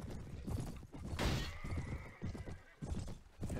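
A horse in a Game of Thrones mod video game gives a loud neigh and whinny amid hoof clip-clops and soft clunks, with no speech.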